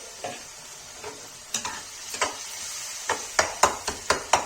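Tomatoes frying in a pan for Kashmiri lal saag sabji: a low, steady sizzle broken by spoon scrapes against the pan, which come sparsely at first and then faster and louder toward the end. No one speaks.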